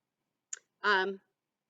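A single crisp computer mouse click on a utility-permit map, short and close, followed a moment later by a brief spoken voice.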